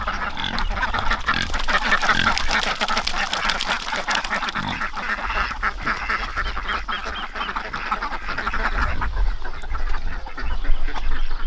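Ducks quack continuously in a noisy flock nearby, with overlapping calls and some rustling and scuffling underneath.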